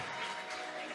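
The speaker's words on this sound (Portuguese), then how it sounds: "Você pode aplaudir o Senhor" A church congregation claps in praise to the Lord during a service, a soft and steady wash of applause without any voices.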